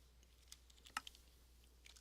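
Sparse, quiet keystrokes on a computer keyboard, a few scattered soft clicks with one sharper tap near the middle, heard alone against a low background hum.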